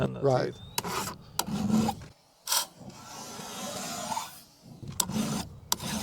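A hand file rasps across the rakers of a chainsaw chain in short, separate strokes with pauses between them, close and fairly loud.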